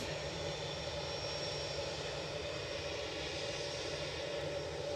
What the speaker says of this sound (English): easyJet lining up to wait.